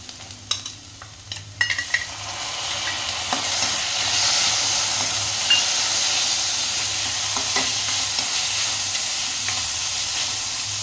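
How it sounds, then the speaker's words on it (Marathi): Onion and tomato sautéing in a pan for a Maharashtrian golyachi amti curry, a few clinks of the stirring spoon at first, then a steady, close sizzling hiss of frying that continues without talk. "कांदा छान परतून घ्यायचा आहे गोल्डन ब्राऊन होईपर्यंत आपण परतणार आहोत कांदा टोमॅटो ॲड करूया त्याच्यात"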